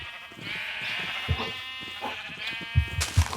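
Sheep on a video game farm, several short bleats and thumping hits over a steady synthetic background hum, fairly close.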